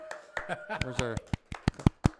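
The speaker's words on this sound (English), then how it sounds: "We have our crowd sound. There it is." Crowd clapping sound effect on a podcast: a handful of sharp, loud claps ring out one after another, right after a brief stretch of voice.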